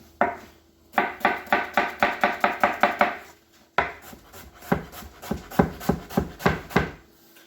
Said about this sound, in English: Put a nice mince on those, you can get rid of that root end.